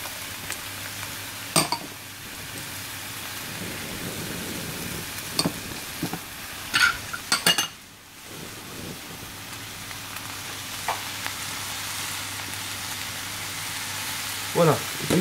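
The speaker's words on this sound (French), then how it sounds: "une fois que tout est dans la poêle, nous pouvons faire revenir les légumes" Garlic and mushrooms frying in a pan, a steady close sizzle with occasional clinks and scrapes of stirring, and a voice talking now and then over it.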